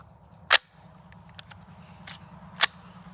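Two sharp, loud rifle shots from a SIG MCX Rattler firing 5.56 through level 3 composite armor, spaced about two seconds apart, with fainter clicks and a low background hum between them.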